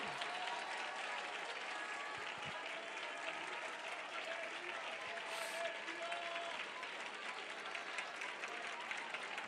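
A church congregation claps steadily and densely throughout a Malayalam healing revival service, a continuous even wash of applause with no clear breaks.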